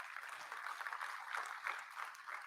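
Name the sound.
audience applause at a convocation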